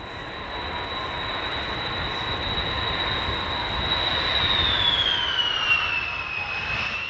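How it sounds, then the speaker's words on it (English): A Belavia passenger jet from Minsk comes in to land, its engines a steady loud roar with a high whine that slowly drops in pitch as it passes, heard alone without voices. "Lily's plane comes out of the sky and onto the runway at 12:43"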